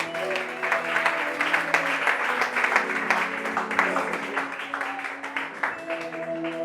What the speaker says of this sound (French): Est-ce qu'on peut encore acclamer le Seigneur?